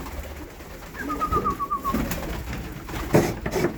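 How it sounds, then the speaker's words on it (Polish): Pigeons coo softly nearby, low throaty burbling calls repeating over faint rustling and a thin whistling tone. "Stała garstka gołębi."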